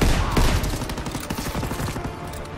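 Dense gunfire rattles through a Call of Duty: WWII battle on the Rhine, with rapid overlapping shots and bursts cracking close and loud for the whole stretch.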